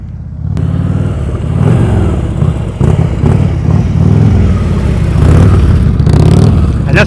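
Motorcycle idling through a slow-speed turn during a riding skills practice session, a continuous low engine rumble with small throttle variations, steady and fairly loud.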